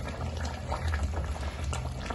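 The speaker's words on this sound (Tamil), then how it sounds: "பாருங்கள் கொதிக்க ஆரம்பிச்சிருச்சு, நல்லா திக்கும் ஆக ஆரம்பிச்சிருச்சு நம்ம கிரேவி." Paneer and peas gravy simmering in a pan, a steady low bubbling boil with soft pops and spatters, close and continuous with no talking.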